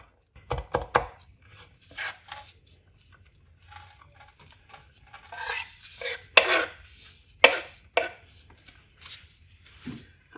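A knife chops ingredients into small pieces on a cutting board, close and crisp, with quick bursts of strikes early on, then scattered separate chops with short pauses between them.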